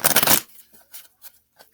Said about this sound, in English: They said riffle shuffle.